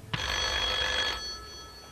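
Telephone on a game show set rings in one loud electronic trill burst lasting about a second, then fades, heard alone.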